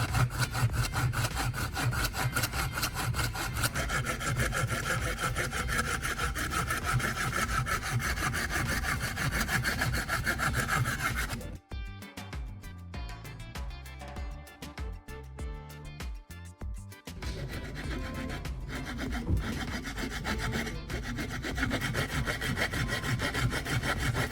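Hand saw cutting an angled metal piece clamped in a vise, steady rhythmic back-and-forth rasping strokes, close and loud, with a short pause midway before sawing resumes.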